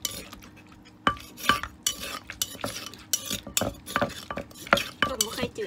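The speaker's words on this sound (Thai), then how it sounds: "เอาน้ำใหม่ลงไปคลุกกัน" Som tam salad being mixed by hand with a fresh sauce, giving repeated close wet slaps and clattering utensil knocks against the bowl in an uneven rhythm, with no talk.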